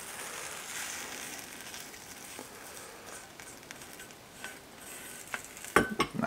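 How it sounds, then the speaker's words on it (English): A spatula scrapes a pan while fried Spam is mixed into eggs and butter, a soft steady sizzle under light scraping, with a few sharper clinks of utensil on pan near the end. "I'm going to scrape the pan a little bit"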